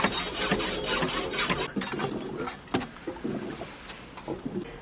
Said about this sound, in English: Now to do that, I'm going to use a hacksaw to make my cut.